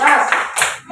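A school class performs the rhythmic 'tepuk salut' clapping routine, short bursts of hand claps in a quick patterned sequence, close and fairly loud, lasting about a second.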